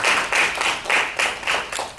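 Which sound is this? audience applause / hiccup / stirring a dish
audience applause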